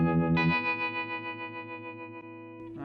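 A distorted electric guitar chord, driven by an Old School FX Rootless Tree overdrive pedal, rings out with a Strymon Flint tremolo effect, its volume pulsing in a steady, even wobble as the note sustains.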